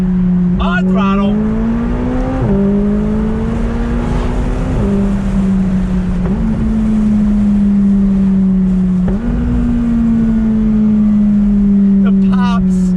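A McLaren 570S Spider supercar engine revs hard on throttle, loud and close, its pitch sweeping up and dropping back several times through gear changes over a steady roar.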